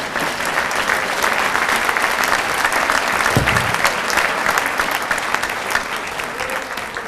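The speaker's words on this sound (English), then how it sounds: "I will pause to see if I can hear your applause." Sustained applause fills a banquet hall at a county sports hall of fame induction, a dense, even clatter of many hands clapping throughout, with one brief low thump partway through.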